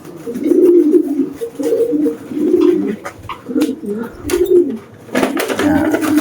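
A racing pigeon coos in repeated low throaty phrases, close and fairly loud, with brief pauses between calls and some faint background noise.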